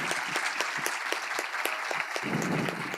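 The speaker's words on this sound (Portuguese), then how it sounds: "Vamos aplaudir o nosso palestrante." An audience at an inspirational talk applauds the speaker, with dense, steady clapping from many hands filling the room at close range and holding at an even level throughout.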